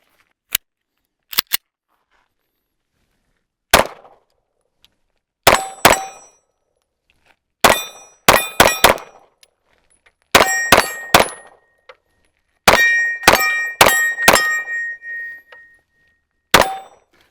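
A Glock handgun fitted with an Aimpoint COA red dot fired outdoors: sharp, loud single shots and quick strings of several rounds, each with a short ringing decay, separated by silent pauses.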